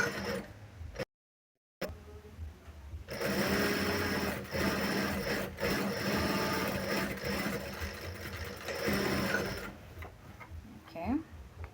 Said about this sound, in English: Sew the top 1 centimeter seam allowance